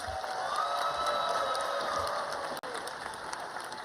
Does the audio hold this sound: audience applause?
yes